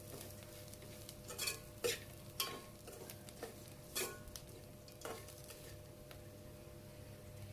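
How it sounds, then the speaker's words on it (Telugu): Ground coconut powder frying in a pan with onions while being stirred for a cabbage coconut curry, a soft steady sizzle broken by a series of irregular scraping and clinking strokes of the spoon against the pan, close and fairly quiet. "ఇప్పుడు మనం గ్రైండ్ చేసి ఉంచుకున్న కొబ్బరి పొడిని ఇందులో వేసి మంచిగా ఫ్రై కానిచ్చి మంచి స్మెల్ వచ్చే వరకు ఫ్రై చేయాలి"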